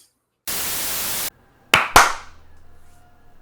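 Two sharp hand claps ring out in quick succession, loud and close, following a short burst of static-like hiss, with the second clap's echo trailing off into a quiet room.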